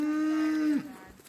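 A cow on a farm, kept apart from the herd because of a limp, gives one close, steady moo that holds level and then drops off sharply, followed by quiet.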